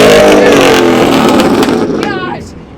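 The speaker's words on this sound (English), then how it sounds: "Everybody's revving, doing burnouts, two-step." Supercar engines revving at a car meet where cars do burnouts, a very loud close roar that fades away over a few seconds, with a rising whine near the end and a voice mixed in.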